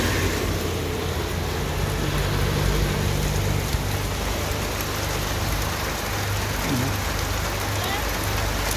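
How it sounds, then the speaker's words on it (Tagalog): Steady rain falls in a continuous, dense wash of broadband hiss that stays at an even level for the whole stretch, with a low hum running underneath and no voices. "Ulan."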